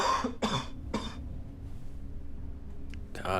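Three sharp, breathy coughs from a person burst out in quick succession, then a pause, with another harsh cough at the close, close-up over faint room noise.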